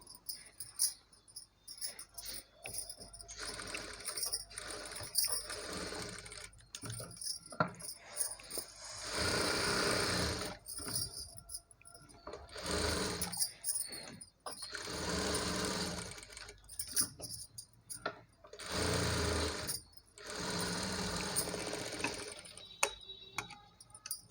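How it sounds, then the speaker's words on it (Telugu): A sewing machine stitches saree fabric into a long frock in repeated bursts of rapid mechanical whirring, close and steady, broken by short pauses between runs of stitching. "మెయిన్ ఫ్యాబ్రిక్ ఎంత ఉందంతా ఒకటి స్టిచ్ అయితే వేసేసుకోవాలండి"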